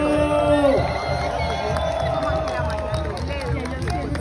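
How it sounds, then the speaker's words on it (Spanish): A crowd at a political rally cheers and applauds for Alto Grado, a dense wash of hubbub and whoops with a whistle-like tone at the start, while a loud amplified voice talks over the noise. "Un aplauso enorme para Alto Grado"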